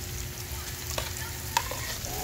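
Onions sizzle in a pan, a steady hissing fry with a low rumble beneath and a few sharp stirring clicks, close and even, no one speaking.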